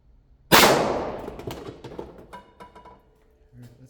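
A single loud gunshot from an Underwood Extreme Defender Lehigh standard-pressure round, fired at a target, with a sharp crack followed by a decaying ring and scattered clinks afterward.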